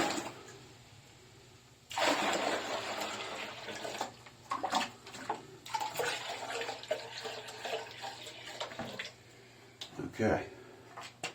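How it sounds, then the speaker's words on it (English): Water is poured out of a container into a bowl in bursts, a splashing gush that starts, pauses and restarts several times, close by with a low steady hum underneath. "Now I'll pour some of this water off."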